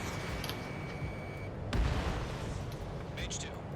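An anti-air radar vehicle is destroyed in the Ace Combat video game, with a sudden heavy booming blast rising out of a steady rumble of game noise and radio chatter.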